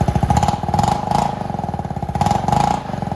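A Venom X22gt 250cc scooter engine is blipped up and down in short repeated surges, a close, clattering, pulsing rev rising and falling about four times.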